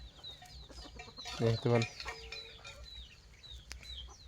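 Chickens cluck in a small rural farm garden in Thailand, with a short, louder burst of clucking over steady outdoor background noise. A person says a few words.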